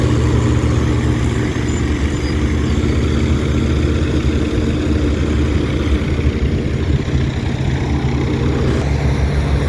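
A vintage International 454 tractor engine runs loud and close, a constant low diesel rumble and clatter with no pauses.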